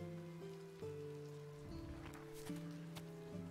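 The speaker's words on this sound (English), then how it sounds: "It's raining." Steady soft rain patters in the Travellers Rest video game, a faint even hiss under a looping tavern melody of sustained tones, with no talking.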